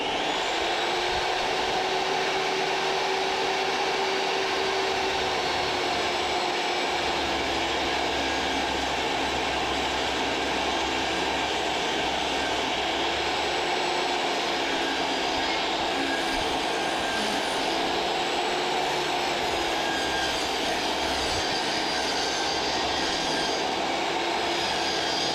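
A machine mills cedar strips for a canoe, a loud, sustained whining roar running unbroken for the whole stretch with a steady high-pitched tone riding over it.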